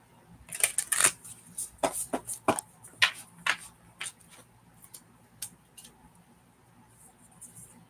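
A deck of tarot-style cards being shuffled by hand at close range, giving a run of crisp, uneven riffling flicks and snaps that thin out toward the end.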